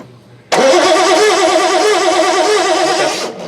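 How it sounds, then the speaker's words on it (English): Engine of a 1976 Triumph TR6 cranking over on the starter, a loud, steady, wavering mechanical whir that kicks in abruptly and runs for about three seconds before dropping away, with no talking. "Crank it more, Les. I just want to see how good a spark it is."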